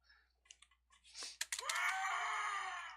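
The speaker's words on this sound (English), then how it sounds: "There's that scream again" A harsh scream from a 1996 RSD Game Maker game bursts out after a few faint clicks and blips, then holds as a loud, sustained cry that lasts to the end.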